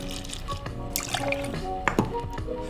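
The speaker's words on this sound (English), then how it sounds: "Heavy cream. We want up 30 mils of heavy cream." Heavy cream is poured into a Ramos Gin Fizz, about 30 ml in all. It makes soft, close liquid dribbling and dripping sounds over a faint background, and nobody speaks.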